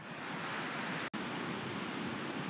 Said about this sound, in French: Il y a des petites vagues parfaites pour apprendre, ça va être génial.